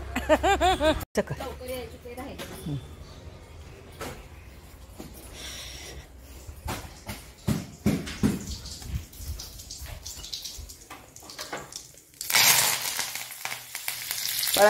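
Hot oil sizzles and crackles steadily in a pan as spices temper for Maggi upma, with someone talking over it and a sharper hiss bursting up near the end.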